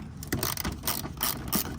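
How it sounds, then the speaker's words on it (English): A ratchet with a 10mm socket on a 3-inch extension turns a bolt on a 2010-2013 Acura ZDX front bumper, giving a close, steady run of rapid clicking pawl ticks with a few slightly louder strokes. "10mm socket, 3-inch extension, and a ratchet"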